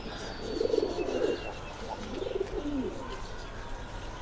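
Pigeons at a pigeon farm in Bangladesh coo in low, rolling phrases close by, with faint chirps and a brief wing flutter over a steady background hum.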